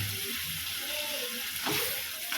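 Ground masala paste for Chettinad chicken sizzles steadily in a hot pan, a close, continuous frying hiss with a brief stirring scrape near the end.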